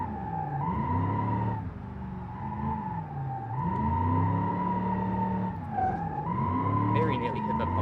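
A car drifting in BeamNG.drive, with engine tone rising and falling through repeated slides and tyre squeal, while someone talks over it.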